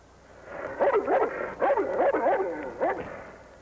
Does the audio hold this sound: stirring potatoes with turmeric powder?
no